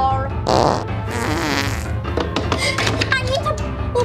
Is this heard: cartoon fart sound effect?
yes